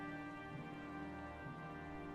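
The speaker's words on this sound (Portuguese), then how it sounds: "Ah, tá chovendo" Rain falls in a PC video game as a soft, steady hiss blended with faint tonal game music, quiet and continuous with no talk.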